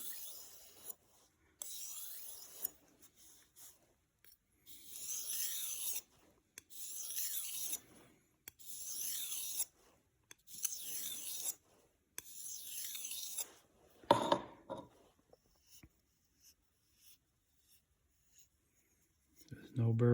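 Cheap knife edge being honed to remove the burr, a series of about six crisp rasping strokes at a regular rhythm, then a few scattered scrapes, close and alone.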